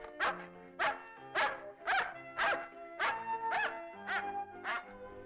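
A white Jindo dog at a Jindo dog championship show gives a run of about nine sharp, evenly spaced barks, close and loud, with no talk over them.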